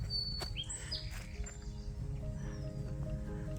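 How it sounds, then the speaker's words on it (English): Songbirds chirping in a dry ravine, with quick high tweets and thin whistled notes over a steady rumble of background noise. "I just used Merlin, and there are like 5 different yellow birds somewhere"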